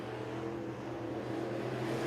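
Late model sportsman stock cars roar around a 1/3 mile oval at a NASCAR weekend night race, a steady faint engine drone carrying from a distance with no voices.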